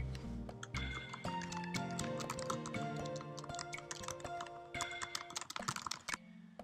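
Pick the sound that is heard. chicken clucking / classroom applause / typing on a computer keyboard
typing on a computer keyboard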